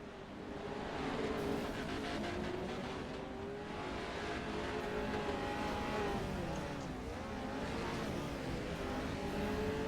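Race cars in an oval-track enduro race: a dense, continuous roar of several engines at once, with rising and falling pitch as cars accelerate and pass, loud and steady throughout with no talk.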